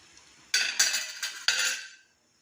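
A spoon scrapes and stirs fried dry fruits into sweet rice in a pot, making four close metallic scraping strokes in quick succession before it falls silent.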